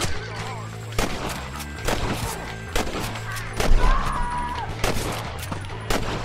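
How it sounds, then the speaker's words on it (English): Gunshots in Red Dead Redemption, a series of sharp, loud reports spaced about a second apart, each with a short echoing tail, set against a game soundscape with a voice speaking briefly. "Who's shooting me now?"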